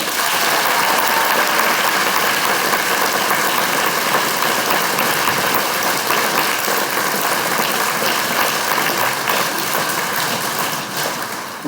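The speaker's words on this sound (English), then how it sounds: "Big cheers, big applause to Seamus Clark." At a Clipper Race crew allocation event, a crowd applauds and cheers for race skipper Seamus Clark, a steady, thick roar of clapping that holds for more than ten seconds before easing slightly.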